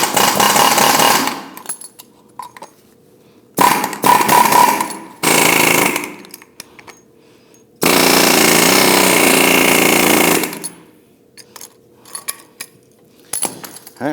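An old front control arm bushing on a 2001-2009 Volvo S60 is knocked out with a power tool, sounding as loud, close bursts of rapid hammering separated by short quiet pauses.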